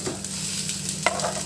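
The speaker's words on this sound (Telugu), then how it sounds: "మనం ఈ తాలింపు అంతా దీంట్లో వేసేద్దాము" Hot tempering poured into a tomato and grated coconut curry, giving a brief sizzle and stirring sounds, close and moderately loud with no talk.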